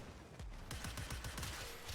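Rapid bursts of gunfire from a Cyanex homing pistol in a video game, a dense run of sharp shots fired into a crowd of enemies, loud and continuous with no talking.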